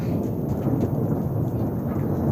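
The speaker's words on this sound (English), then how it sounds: "worst thunder I've ever seen." Thunder rumbles through a rare, heavy thunderstorm, a deep, loud, continuous low roll filling the whole short stretch, with faint rain noise above it.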